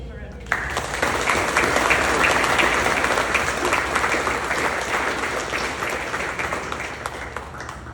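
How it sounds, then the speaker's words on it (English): An audience applauds for First Sergeant Joshua Perdomo at a cadet squadron change-of-command ceremony. Dense, steady clapping starts abruptly after half a second and continues loudly to the end. "So please give him a round of applause."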